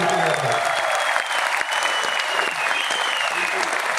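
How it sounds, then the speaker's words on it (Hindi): Auditorium audience bursts into loud, dense applause that stays strong and continuous, with some crowd voices mixed in. "एक बार जोरदार ताली"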